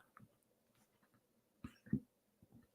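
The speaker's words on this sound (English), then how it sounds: "Excuse me, clear my throat." A person clears their throat mid-talk, a short rough burst followed by a louder, deeper rasp, close and fairly quiet, between faint breaths.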